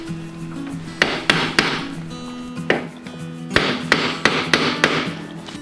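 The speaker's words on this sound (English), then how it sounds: "Take a screwdriver and hit it, just the top one, and rotate it." Screwdriver struck with sharp metallic taps to turn the top nut on a motorcycle's triple tree, a series of about eight close, loud knocks in uneven bursts, with a low hum in the background.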